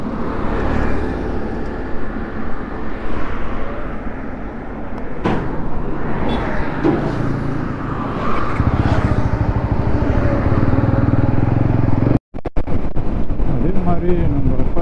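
A TVS Apache RTR200 4V BS6 motorcycle cruises on a highway between Pondicherry and Chennai, its engine drone blended with heavy, steady wind roar, loud and close throughout.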